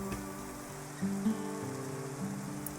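Rain in the Minecraft video game hisses softly and steadily beneath a sustained tonal background music bed, low in level and uninterrupted.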